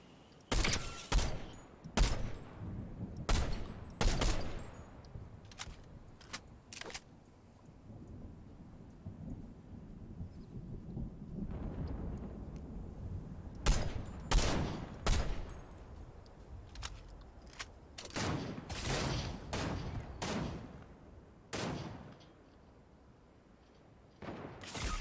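Gunfire in a Fortnite battle royale match, near the end with few players left: loud clusters of sharp shots crack out in repeated bursts, separated by stretches of rumbling, noisy ambience, with no one talking.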